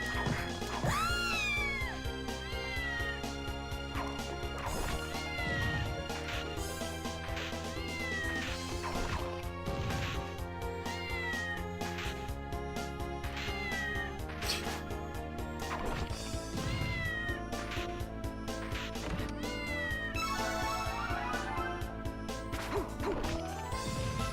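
Repeated cat meows in Castlevania: Order of Ecclesia over a busy game soundtrack, with occasional crashing hits and whooshes mixed in.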